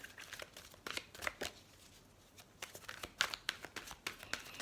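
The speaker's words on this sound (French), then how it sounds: "On va prendre une carte, une dernière carte." A tarot card is drawn from a deck: quiet, close papery shuffles and slides come in short bursts with brief pauses between.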